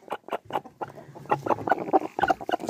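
A hen with stuck-together, crusted eyes clucks repeatedly in short, close bursts, a run of soft clucks and murmurs with brief pauses between them, no talking over it.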